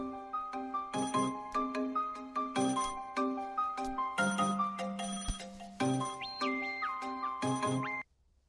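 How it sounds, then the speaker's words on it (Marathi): A phone ringtone plays a repeating melodic pattern of bright electronic tones in short bursts, loud and close, stopping abruptly near the end. "फोन येतोय."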